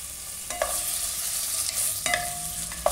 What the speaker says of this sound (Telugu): 1-2 నిమిషాలు ఫ్రై చేసుకోవాలి చికెన్ని.